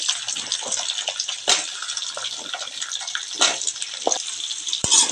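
Raw mango pieces added a little at a time to hot oil for a quick mango pickle, a bright, dense, crackling sizzle with sharper spatters and pops at a few moments.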